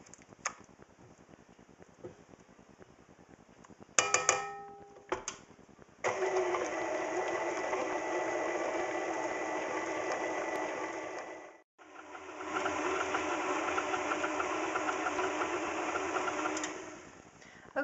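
An electric hand mixer whirs steadily as it blends ranch dressing into buffalo chicken dip in a bowl. A few short bursts come first, then a long loud run that pauses briefly and resumes.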